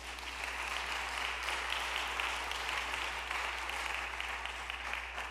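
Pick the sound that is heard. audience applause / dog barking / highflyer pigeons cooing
audience applause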